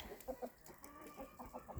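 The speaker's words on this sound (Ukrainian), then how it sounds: "У нас з'явилися на господарстві нові болотні кури." Marsh hens cluck softly in short bursts, a few low calls close by with quiet farmyard background.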